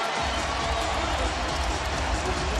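A sellout home crowd at the Rose Garden basketball arena roars on its feet, a dense continuous wall of cheering heard under an announcer's voice.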